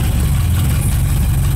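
A Suzuki Carry 1.0 pickup engine runs steadily with a low, continuous rumble, close and loud throughout with no talk over it.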